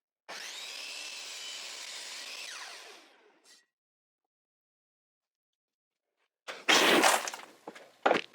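A walnut wood piece being cut for a pen and pencil holder: a steady, loud saw whine runs for about three seconds and stops, and after a pause come a few sharp knocks and rubbing sounds.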